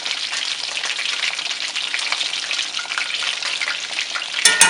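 Chicken pieces frying in hot oil, a dense continuous crackling sizzle, steady and close throughout, ending with a brief louder clatter.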